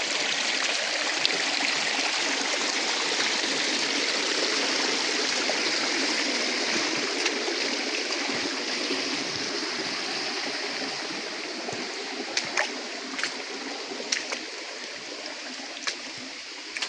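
A mountain stream in Buenavista, Quezon rushes and burbles steadily nearby, a continuous wash of flowing water with a few small splashes and no talking.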